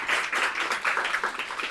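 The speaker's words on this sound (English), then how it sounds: "give a big round of applause for Natalie from Substract" An audience claps for a speaker at an A11YNYC accessibility meetup: a brief, dense burst of many hands clapping together, steady and fairly close, with no voices over it.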